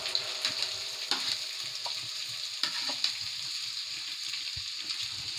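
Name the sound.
tomatoes frying in a pan for aloo kurma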